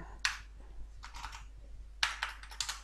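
Computer keyboard keys are typed in short bursts while code is written, three quick clusters of crisp clicks separated by brief pauses, close and fairly quiet over a low steady hum.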